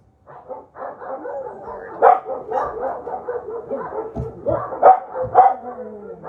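Several dogs bark and yip repeatedly, fairly close, in an overlapping excited chorus with a few louder peaks, at an animal shelter as clinic animals pass through.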